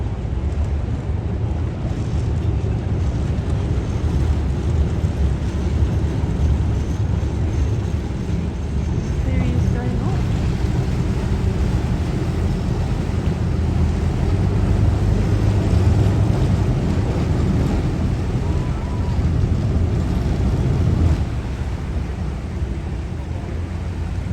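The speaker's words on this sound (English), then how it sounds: "Love the sound of the boat engines." Steady low rumble of ferry boat engines in Sydney throughout, mixed with wind buffeting and water noise, continuous and fairly loud.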